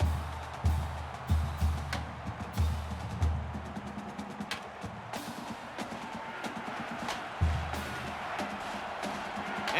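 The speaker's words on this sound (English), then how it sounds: "And this crowd is going absolutely crazy." A video game football crowd in NCAA Football 14 roars continuously for an Indiana–Ohio State matchup, with repeated thumping beats and sharp hits over the steady cheering.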